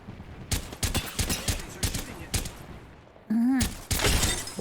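Video game gunfire rings out in rapid bursts of sharp shots, loud and close, followed by a distinct whooshing effect and another volley.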